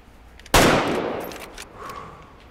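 A single loud rifle shot fired at a mule deer in the hunting game Way of the Hunter, a sharp crack followed by a long rolling echo that fades over about two seconds.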